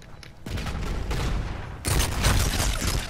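Gunfire on the Turista DLC map in Call of Duty crackles in dense, rapid bursts, growing louder and heavier partway through with booming low-end impacts.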